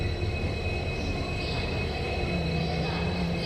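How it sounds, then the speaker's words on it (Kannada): A Bijapur to Mangalore passenger train stands at a station platform, giving a steady, continuous rumble and hum with a faint high whine over it and no clear bursts. "ನಮ್ದು ಬಿಜಾಪುರ ಟು ಮಂಗಳೂರು ಟ್ರೈನ್"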